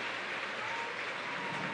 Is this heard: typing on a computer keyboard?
no